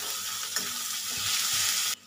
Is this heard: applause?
no